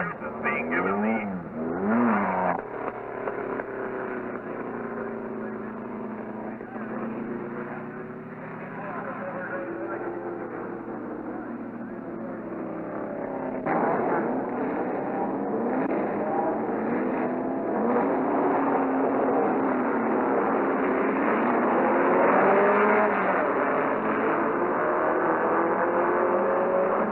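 Racing cars run at speed on a slippery track at a 1965 race, a continuous roaring engine drone with rising and falling pitch as cars pass, under a voice talking throughout.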